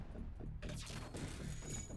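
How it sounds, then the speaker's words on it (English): Missile striking a ship in the FTL space combat game, heard as a dense two-second rumble of impacts and crashing after a brief quieter lead-in, loud and continuous with no talk. "We have no dodge right now, so that missile will hit."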